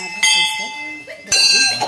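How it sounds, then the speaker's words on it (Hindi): Temple bells at the Sati Mai shrine in Amawa, two bright metallic clangs about a second apart, each ringing briefly before fading, close by. "देखिए, सब इतनी घंटियां बंधी हुई है"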